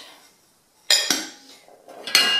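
Ceramic plates and dishes clink and clatter sharply in two short bursts as a kitchen cupboard stack is sorted for chips, close and fairly loud after a quiet pause.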